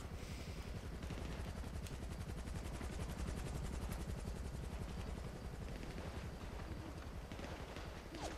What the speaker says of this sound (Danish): Hvad fanden kommer der helikopter nu?